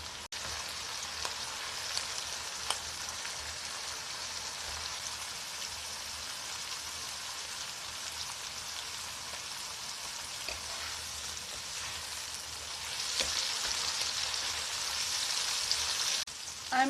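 Baby octopus and carrot stir-fry in a pan for a spicy-sweet Korean dish, a continuous crackling sizzle throughout with a few faint clinks, growing a bit louder and hissier near the end.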